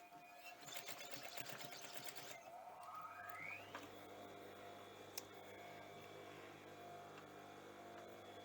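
A sewing machine runs along the existing side seam of wrap-around pants, a fast whirring stitch that starts up, settles into a steady hum and continues alone.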